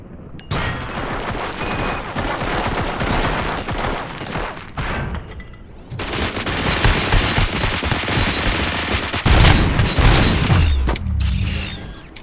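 Relentless automatic gunfire in RoboCop: Rogue City, a loud sustained rattle of rapid bursts with heavy impacts and booms layered in, briefly easing midway before intensifying again.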